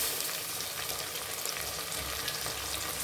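Chopped tomato frying in a pan for egg biryani, a steady broadband sizzle with light stirring, close and continuous, no talk.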